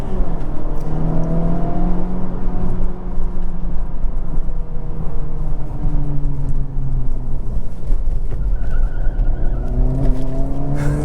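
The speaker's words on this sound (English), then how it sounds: "So I'm going to start the car up. Get it in the Sport Plus driving mode" A 2024 Acura Integra Type S drives hard in Sport Plus mode, its engine note rising and falling through repeated gear changes with steady road and wind roar throughout.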